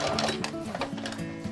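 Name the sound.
sewing machine top stitching bias binding on an apron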